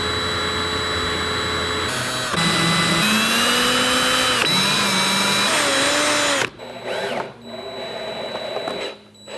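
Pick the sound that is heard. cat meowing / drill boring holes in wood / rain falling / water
drill boring holes in wood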